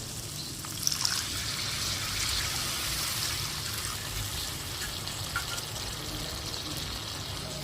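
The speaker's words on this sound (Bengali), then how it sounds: "এবার দিয়ে দেবো পরিমাণ মতন জল" Water is poured from a container into a pan of mustard fish curry. A continuous close trickle and splash runs steadily under a faint background hiss.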